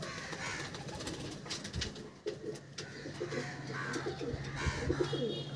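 Pigeons coo steadily in a loft where birds are kept for sale, a dense, continuous murmur of soft low calls from many birds close by, with faint rustling and no talk.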